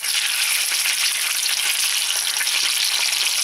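Pieces of burbot fish frying in hot oil in a pan give a steady, dense sizzle and crackle that stays loud and even throughout, with no voices.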